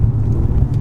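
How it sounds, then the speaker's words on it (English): An Alfa Romeo QV driven at full throttle on a cold, damp day, its engine a loud, deep, steady roar heard up close for a brief moment. "I have at long last experienced full throttle"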